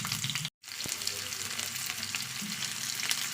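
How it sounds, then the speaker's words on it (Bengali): Chopped onion hits hot mustard oil in a kadai and sets off a loud, steady sizzle with a sharp crackle. There is a brief gap near the start, and then the frying continues unbroken. "এখন তেলের মধ্যে দিচ্ছি পেঁয়াজ কুচি"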